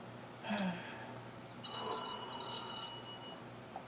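A telephone rings with a bright electronic trill lasting nearly two seconds, following a brief faint murmur, heard moderately close in a quiet room.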